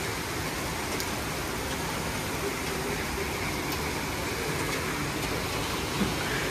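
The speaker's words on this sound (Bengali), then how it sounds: "জোরে বৃষ্টি পড়ছে, একদম মুষলধারে" Heavy monsoon downpour, a dense, even roar of rain that fills the whole clip without gaps, loud and steady with no voices over it.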